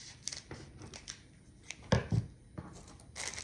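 Scissors snipping through a plastic TEMU shipping package at the top, a run of crisp close cuts with rustling plastic between them and a louder crunchy snip midway.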